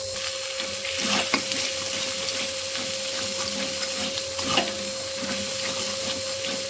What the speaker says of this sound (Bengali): এবার সব একসঙ্গে ভালো করে মশলার সঙ্গে মিশিয়ে নেব